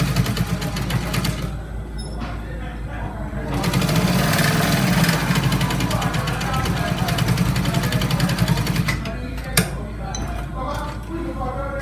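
A sewing machine stitching trouser fabric runs in a fast, steady mechanical whir that swells in the middle and then slows, with a person talking over it.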